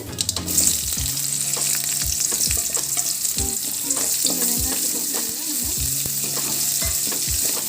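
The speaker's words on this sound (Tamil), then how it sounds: "கடுகு பொரிஞ்சிச்சு" Hot oil sizzles steadily while mustard seeds crackle and pop in quick irregular bursts, with occasional metallic stirring clinks.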